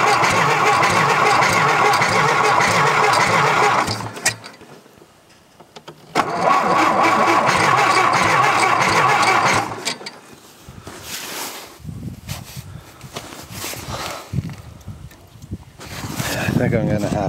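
A tractor engine cranks and catches roughly with spark plugs in need of cleaning, loud sputtering bursts that stall into quiet gaps, then a second loud run, followed by uneven idling and clanks.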